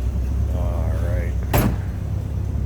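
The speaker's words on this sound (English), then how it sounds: "The door closes nicely." A 1966 Ford Mustang GT convertible door shuts with a single solid thump, close up, over a steady low background rumble.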